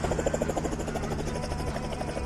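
A helicopter flies close behind a UAZ jeep, its rotor making a loud, steady rapid thudding with a continuous engine whine and no talk over it.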